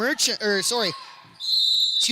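A referee's whistle sounds at a senior girls' basketball game, a steady high blast rising after commentary and held for almost a second before the commentator's voice returns.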